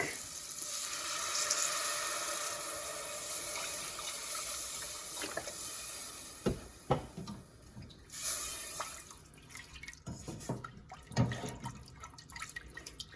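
Vegetable stock pours into a butter chicken chowder pot as a steady liquid splash, followed by faint sizzling and a few clinks near the end, with no talking.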